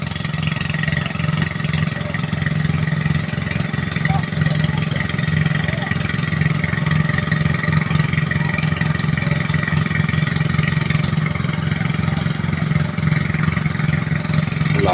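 A motor, probably a water pump engine, runs steadily beside a field being watered and fertilised, a constant mid-pitched drone lasting the whole stretch with no speech.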